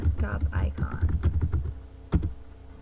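Fast, clicky keystrokes on a computer keyboard, a quick run of taps close by with a single sharper tap near the end, and a voice talking over part of it.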